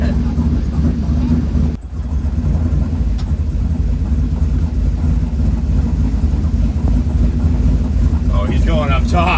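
A Chevrolet C10 burnout truck's engine runs loud and steady, a deep droning rumble with a brief dip partway through as the throttle eases, then continues near and strong to the end.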